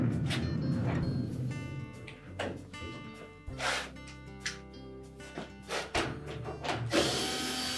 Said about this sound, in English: So we'll begin by removing the 3 screws on the console.